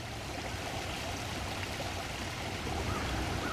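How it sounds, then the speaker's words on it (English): A swollen creek after heavy rain rushes by, a steady broadband wash of fast-flowing water, continuous and fairly close, with no voices over it. "the creek is moving pretty fast this morning"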